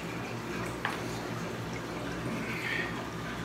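Liquid is poured into the corner of a fish tank where a canister filter's outlet returns water, giving a steady, moderate wash of pouring and splashing with a brief sharper splash early on.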